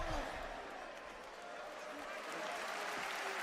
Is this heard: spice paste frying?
no